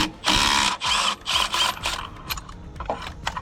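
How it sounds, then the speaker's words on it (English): Ratchet wrench clicking rapidly in short bursts while the center bolt holding the fan on a Generac 22kW 999cc engine is backed out, close up and fairly quiet. "Now we're going to go ahead and take this center bolt out, hold the fan on."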